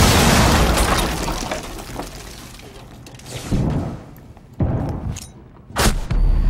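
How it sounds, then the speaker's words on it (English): Grenades going off in the mobile shooter Tacticool: a run of loud, sharp blasts among gunfire, with three distinct booms standing out near the end, each a brief broadband burst over a noisy battle backdrop. "I'm gonna throw in a couple of grenades"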